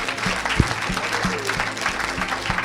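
A church congregation applauding, steady clapping from a crowd with a rhythmic beat running underneath, loud and continuous throughout.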